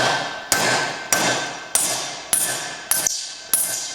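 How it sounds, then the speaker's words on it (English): Sharp metallic hammer blows on a 25 mm socket driving a bearing out of a Vespa P200e engine case, seven evenly spaced strikes, each ringing briefly before fading, close and clear with no talking. "And at this point, you could drive the bearing out."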